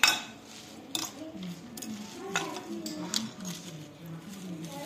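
A salad dressed with sherry vinegar is mixed in a bowl, with scattered clinks and scrapes of utensils against the dish at irregular intervals, heard close and fairly quiet under a speaking voice.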